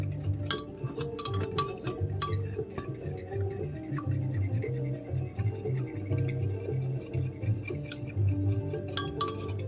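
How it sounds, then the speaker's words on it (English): A utensil whisks instant tomato tonkotsu ramen broth in a bowl, giving steady, rapid clinks and scrapes against the bowl, close and fairly loud throughout. "And we will whisk, stir, make the broth"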